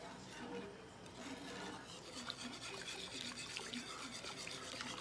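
Watery smothered chicken gravy stirred in a pot, giving a steady close-up wet scraping and rubbing sound with faint liquid sloshing throughout, no voice.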